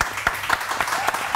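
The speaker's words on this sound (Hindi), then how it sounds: "बहुत सारी तालियां सादिया के लिए" Brief burst of applause, several hands clapping at a quick uneven rhythm, fairly close, with a voice faintly underneath.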